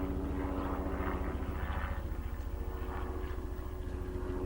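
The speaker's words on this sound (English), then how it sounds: "What would a video be without a helicopter, right?" Helicopter droning steadily overhead with a low, throbbing rotor beat that holds at a constant moderate level for the whole stretch, heard during a repair session on a 1977 Sony Trinitron KV1215 television.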